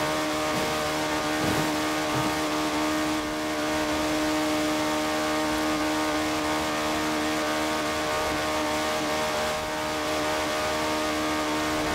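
Engine of a 1985 Ford RS200 Evolution in Forza Horizon 4 holds a high, steady drone near its rev ceiling, with harmonic whine and brief shifts in pitch, loud and continuous with no voices.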